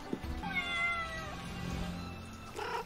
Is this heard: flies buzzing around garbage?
no